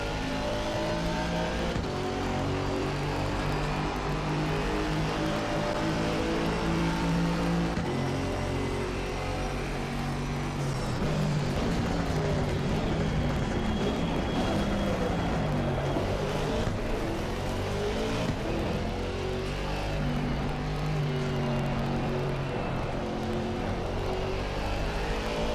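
A GT4 race car in the Assetto Corsa Competizione sim, its engine howling near the rev limit at the Nürburgring, pitch climbing and dropping through gear changes in a continuous loud drone with no talk.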